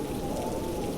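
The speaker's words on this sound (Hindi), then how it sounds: "बाहर बारिश और तेज हो गई।" Heavy rain pours down outside in a cartoon scene, a steady dense wash of falling drops with no pauses and no voices.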